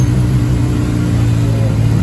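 A CFMoto 500SR motorcycle engine runs steadily at close range, a loud low rumbling idle that holds evenly throughout, with no talk over it.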